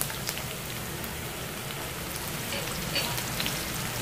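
Cumin, garlic and onion fry in hot oil in a kadhai, giving a steady, dense crackling sizzle that holds evenly throughout with no talking.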